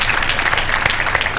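A studio audience on a Ramadan iftar television show applauds, a loud, steady crackle of many hands clapping together without pause.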